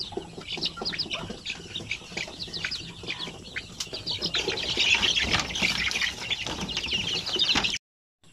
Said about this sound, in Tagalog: lahat po ng mga sisiw dito sa ating kulungan ay nasa 110 po silang lahat